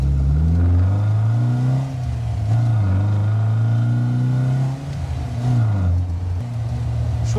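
Steady drone of an MG Sebring's four-cylinder engine and exhaust under acceleration, loud and close from inside the car, its pitch climbing and dipping through gear changes, with faint talk in the cabin.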